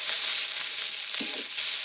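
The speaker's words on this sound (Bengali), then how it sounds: "এবার আমি দিয়ে দেবো ফুলটা সামান্য একটু নেড়ে ছেড়ে, বেশি ভাজবো না" Drumstick flowers sizzle and fry in a pan with potato, eggplant and tomato, a bright continuous hiss with a brief stirring scrape near the end.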